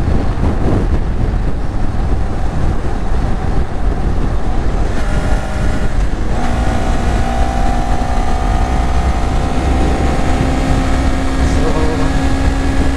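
A Honda CBR250RR motorcycle accelerating hard on a highway, engine roaring with rising pitch through gear changes under heavy wind rush, with a rider speaking briefly over it.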